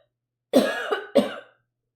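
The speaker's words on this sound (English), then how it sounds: "I'm going to cough." Two close coughs in quick succession, the first drawn out and rasping, the second short, followed by quiet.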